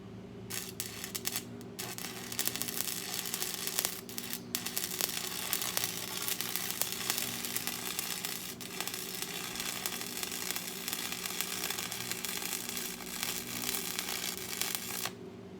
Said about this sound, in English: I'm going to go in between each of those tacks, and I'm going to weld what we call a bead